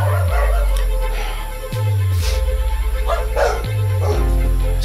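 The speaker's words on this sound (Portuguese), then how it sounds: "Você pode ver que os cachorros latem" Dogs bark repeatedly in a dark horror video game, loud and close, with steady low droning game music underneath.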